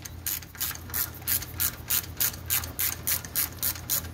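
Ratchet wrench on a long socket during transmission removal on a Ford Transit T-250, about a dozen quick, evenly spaced clicking bursts, close and clear.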